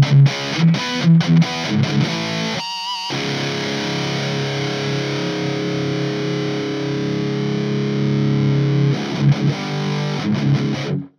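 Distorted electric guitar played through a Lichtlaerm PandorA's Box power amp with the presence control raised: a few choppy chords, then one long, loud, bright sustained chord ringing out before more short strums.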